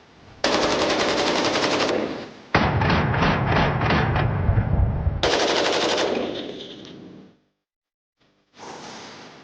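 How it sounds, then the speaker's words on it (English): Sustained bursts of automatic gunfire from a Ruger AC556 rifle, loud rapid rattling volleys in several strings separated by short pauses and a brief silence. "So this right here is the Ruger AC556"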